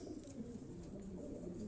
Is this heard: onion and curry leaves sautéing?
no